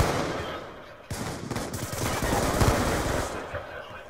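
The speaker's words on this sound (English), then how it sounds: "Oh, I'm being shot at." Rapid gunfire crackles in a multiplayer shooter video game match, dense bursts and sharp shots layered into a noisy, sustained volley with a voice talking over it.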